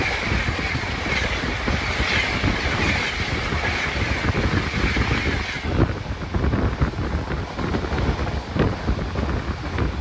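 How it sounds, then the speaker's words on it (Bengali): Howrah–Patna Jan Shatabdi Superfast Express rushing past at speed, a loud, steady roar of rolling stock with wind buffeting the microphone and a slight shift in tone partway through. "সামনে দ্রুতগতিতে আসছে হাওড়া থেকে পাটনা হাওড়া পাটনা জনশতাব্দী সুপারফাস্ট এক্সপ্রেস"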